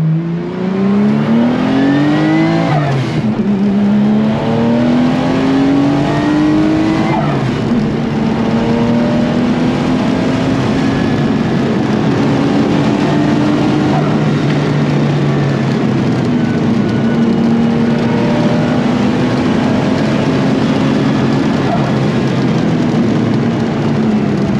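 Rear-mounted turbocharged flat-six of a widebody Porsche 930 RWB pulling hard on a Nürburgring lap, a loud continuous engine roar with rising pitch sweeps through the gears and a shift near the start.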